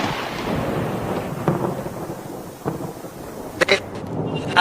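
Heavy monsoon rain in Ahmedabad hisses steadily with gusts of wind, broken by several sharp thunder cracks and rumbles, the loudest near the end.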